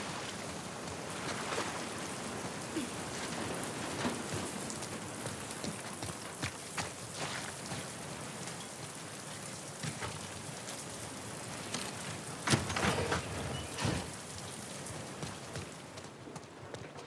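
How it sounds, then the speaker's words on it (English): Steady rain pours in The Last of Us Part 2, a dense continuous patter on surfaces with scattered sharper drips and a brief louder splash burst partway through. "Let's get out of the rain."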